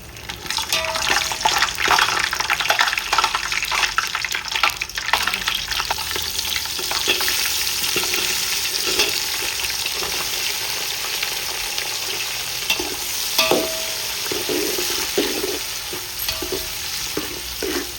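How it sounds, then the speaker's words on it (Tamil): Whole masala spices frying in hot oil in a pan for coconut-milk biryani, a steady loud sizzle lasting throughout with intermittent stirring scrapes and clinks, no voices. "இப்போ எண்ணெய் காஞ்சிச்சு. இப்போ இந்த மசாலா ஐட்டம் எல்லாத்துக்கும் சேர்த்துக்கலாம்."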